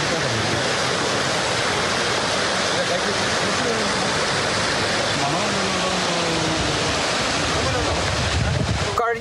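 The foaming Koottar river in Idukki roars as a loud, continuous rush of churning water, dense and unbroken from start to finish.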